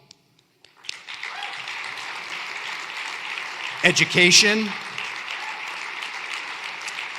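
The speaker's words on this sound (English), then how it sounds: "Please join me in applauding the partners in the following sectors" Audience applause at the 2023 Better Buildings, Better Plants Summit opening plenary, a steady wash of clapping from a large crowd that swells briefly midway, with a speaker's voice cutting in over it.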